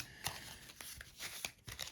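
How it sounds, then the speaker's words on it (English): A deck of cards for the Zombicide White Death board game is shuffled at a table, a run of quick riffling snaps and brushes in short bursts, close and fairly quiet. "I'm going to shuffle this now"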